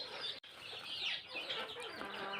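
Young chicks cluck and chirp continuously in a coop before receiving a vaccine, a dense busy chatter of small birds with a brief gap near the start.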